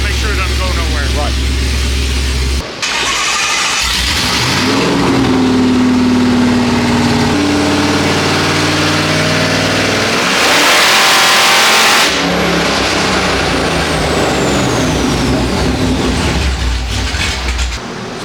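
A built 400-horsepower car called the Black Ghost revving on a dyno pull: a loud engine climbs and holds high revs, backs off, and surges again, with a whine sweeping up near the end.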